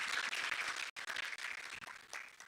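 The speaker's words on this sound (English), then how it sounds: "Can we clap for him again" An audience at a film expo gives a presenter a burst of fairly faint, fast, dense clapping that holds steady for a couple of seconds, with brief dips and a louder knock at the end.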